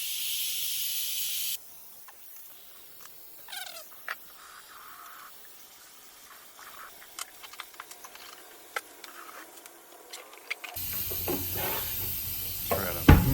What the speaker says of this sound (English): We're at a minute and a half almost, and still got some steam coming out.